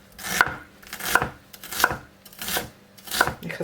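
A knife chopping red onion finely on a cutting board, five evenly spaced sharp knocks close by with soft scraping between them.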